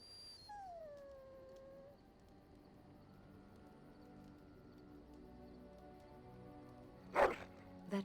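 A dog in Dragon Age: Origins lets out a drawn-out, falling howl that tapers into a whimper, followed by quiet ambient game background and a short burst of noise near the end.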